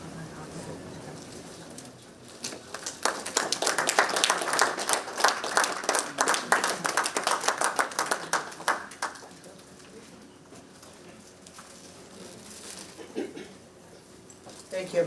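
Warm applause from an audience at a commemorative event at the US Capitol honoring Mr. Shringla, many hands clapping steadily for several seconds, then fading into quiet room tone with faint murmurs.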